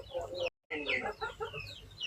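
A laying hen at a small home poultry farm clucks in quick, throaty bursts close by, with one brief silent gap partway through.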